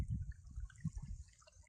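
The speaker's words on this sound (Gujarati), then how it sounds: "લહણમાં પાણી જાય છે એની રીતે," Irrigation water trickles and drips into a garlic field bed, a faint, close liquid sound with soft gurgles, without any speech.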